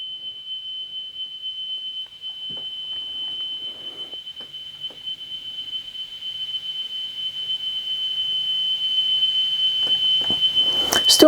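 An Amstrad 7070 cassette deck plays a steady high test tone that holds continuously while its loudness slowly wavers and rises, with faint handling clicks beneath.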